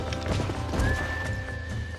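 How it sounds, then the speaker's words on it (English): Horses in the Red Dead Redemption video game, with a clear whinny rising over steady hoof clip-clops and low rumbling game ambience, close and with no speech. "These are fine horses."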